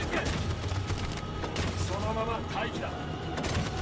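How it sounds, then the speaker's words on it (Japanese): Machine gun fire from the video game Detroit: Become Human, a dense continuous fusillade of shots filling the scene, with a voice talking over the shooting. "奴らマシンガンで手当たり次第撃ち殺してる"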